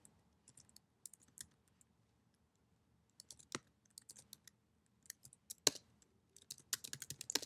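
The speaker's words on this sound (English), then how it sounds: "Type in my password." Password being typed on a computer keyboard at a Raspberry Pi terminal: scattered soft key clicks with pauses, building to a quicker, denser run of keystrokes near the end, no voices.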